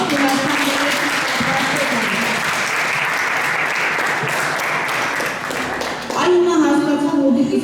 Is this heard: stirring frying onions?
no